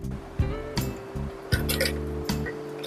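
Cut elephant foot yam pieces are rinsed in water in a kitchen, with a few drips, clinks and splashes against the vessel over a steady background hum.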